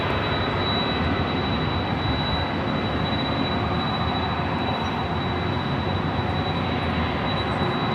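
An aircraft on final approach into LAX produces a loud, steady jet roar that fills the whole stretch without letup, with a thin high whine running through it, close and continuous, with no voices.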